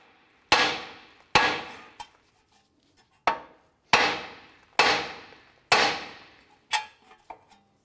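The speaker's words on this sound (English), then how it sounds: "we're going to now use a hammer to strike the knuckle right here and release our tie rod end" Sharp metallic hammer blows strike a 2004-2008 Acura TL steering knuckle to release the tie rod end, about eight hits in irregular pairs and singles, each ringing briefly before decaying, close and loud with no talking.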